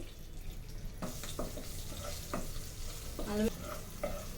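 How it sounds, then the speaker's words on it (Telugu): Ginger paste frying with cumin seeds, curry leaves and turmeric in a pan for palak paneer curry: close sizzling under sharp scraping stirs of a spoon, with a few wet crackles. "అల్లం వెల్లుల్లి పేస్ట్ బాగా వేగింది"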